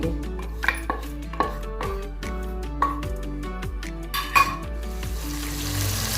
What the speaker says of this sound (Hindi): सबसे पहले हम हंडिया में 1/2 कप कुकिंग ऑयल डालेंगे और अभी इसमें प्याज डाल के लाइट पिंक करेंगे।